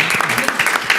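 A panel audience claps for the speakers at a session on female entrepreneurs in Africa, in a brief, dense burst of applause that runs steadily and fairly loud throughout.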